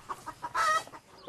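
Hens at an organic poultry farm clucking in short, quiet bursts, a run of soft clucks followed by one louder, longer squawk, close by with no speech.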